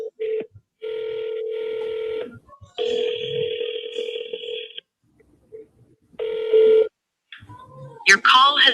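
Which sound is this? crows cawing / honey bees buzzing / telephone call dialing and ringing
telephone call dialing and ringing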